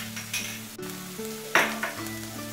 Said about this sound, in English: at this point of time, I will put this chopped onion pieces here